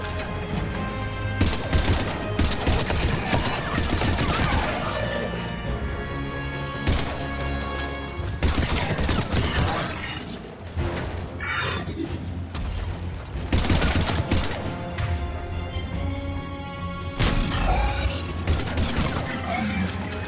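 Dense bursts of rapid automatic gunfire and crashing impacts in the sci-fi shooter Mass Effect 3, loud volleys repeating over a twenty-second firefight with faint voices underneath.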